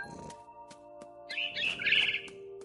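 A mama bird chirps in the video game What Remains of Edith Finch, with short bright tweets and a fluttering trill rising over a low sustained ambient tone.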